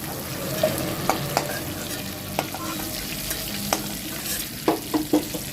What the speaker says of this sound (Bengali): ওই তেলে আলুর টুকরোগুলো খুব ভালোভাবে ভেজে নেবো।